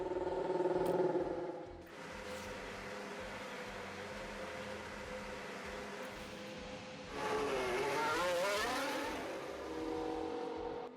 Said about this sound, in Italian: vi lascio apprezzare il sound della nostra auto per un momento